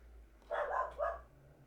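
Puppy giving two short, sharp barks close by, quiet overall, with a faint low hum underneath and no talking.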